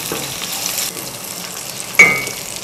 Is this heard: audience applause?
no